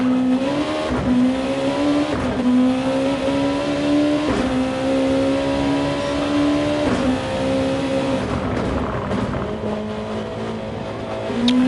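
A race car in a multi-class event drones loudly through the final corner toward its third lap, engine pitch holding steady with brief dips as gears shift and it slows slightly, sustained and close.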